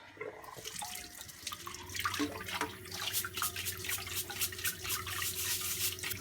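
Hot tap water runs steadily over soaking Dyson DC07 vacuum cyclone parts in a sink, a continuous splashing stream with dripping and spattering that grows busier partway through, close and fairly loud.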